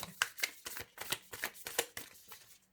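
New tarot cards are shuffled by hand in a steady series of crisp riffling bursts, about a dozen quick papery flutters spaced evenly, close and fairly quiet with no talking.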